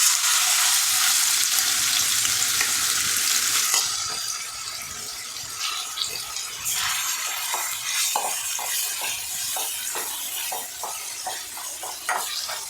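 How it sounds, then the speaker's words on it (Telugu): Marinated chicken drops into hot oil with a loud, bright sizzle that fades after a few seconds into steady frying, broken by small crackles and pops. "హీట్ అయిన ఆయిల్లో మనమైతే మ్యారినేట్ చేసుకున్న చికెన్ ఉంది కదండి, ఆ చికెన్ అయితే ఆయిల్లో వేసుకోవాలి"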